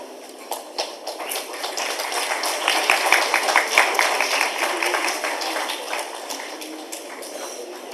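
Dense, steady applause from a conference audience honoring an eminent panelist, many hands clapping together at an even, sustained level for the whole stretch.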